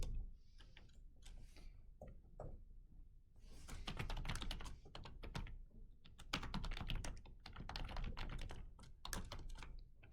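Fast, steady typing on a computer keyboard while entering code, with dense overlapping key clicks that come in bursts and brief pauses, close and moderately loud.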